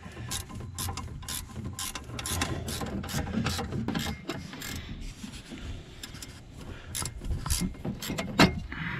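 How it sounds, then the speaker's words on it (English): A wrench works a spring-tensioned bolt on a plate of a neglected Bobcat S185 skid steer, producing a series of sharp metallic clicks and ratcheting scrapes in irregular bursts, close and fairly loud. "all you have to do to remove this plate is remove this bolt here that is tensioned with a spring"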